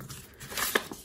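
A short, crinkly tearing rasp as the backing is peeled off tear-and-tape with a pick tool, brief and close.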